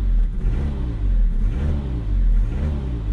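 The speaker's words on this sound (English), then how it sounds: "At least it revs." A 2015 Jeep Patriot engine with a newly replaced throttle body revs up and down in repeated rising sweeps, a loud, close, steady mechanical roar with no voices.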